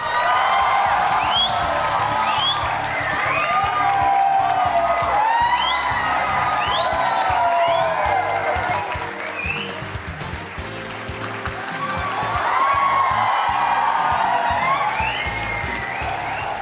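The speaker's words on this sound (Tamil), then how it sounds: "உங்க கைத்தட்டலை நிறுத்த வேணாம்." Studio audience at a televised courtroom-style interview show applauding and cheering a Bhojpuri singer-actor turned politician, a loud sustained wave of clapping with whoops and shouts that dips briefly midway and then swells again.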